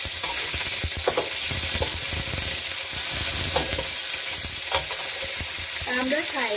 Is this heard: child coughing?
no